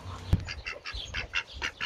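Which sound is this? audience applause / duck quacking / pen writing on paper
duck quacking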